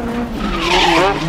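A 1995 Renault Clio Maxi rally car skids under handbrake, its tires scrubbing loudly and close over the engine's drone in one continuous slide.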